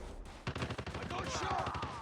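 Rapid bursts of automatic gunfire in a hardpoint match of a first-person shooter game, a quick string of sharp repeated shots at moderate loudness, with game announcer voice lines mixed in.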